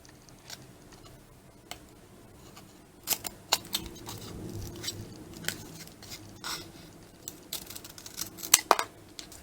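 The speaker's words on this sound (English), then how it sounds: "I cut it in 2 halves, just in the middle." Scissors cut through the inner tray of an empty cardboard matchbox, giving scattered close clicks and snips that bunch into a quick burst near the end, with no talking.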